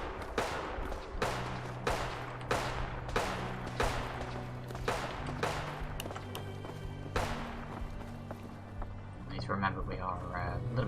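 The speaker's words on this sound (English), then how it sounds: "let's not go near the big explosions that are happening" Explosions and gunfire in Fallout 4 pound out as sharp, loud blasts at a steady pace, about one per second, over a droning background, with a voice talking throughout.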